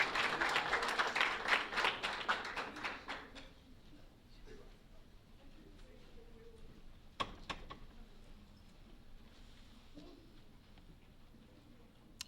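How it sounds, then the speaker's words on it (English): Audience applause for a school dance team at a board meeting, a brief burst of close clapping lasting about three seconds, followed by quiet room noise with a few scattered knocks and movements. "Another round of applause for the Decatur dance team."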